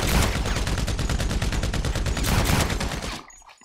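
Rapid automatic gunfire in the GTA5 zombie mod video game, a dense fusillade of loud, closely spaced shots for about three seconds before cutting off abruptly.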